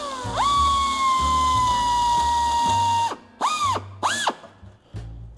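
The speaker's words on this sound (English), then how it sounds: "every time you drill out a rivet and put a rivet back" A power drill drills out a rivet from aircraft skin, whining at a steady pitch for about three seconds, then two short bursts spin up and wind down, with grinding and rattling underneath.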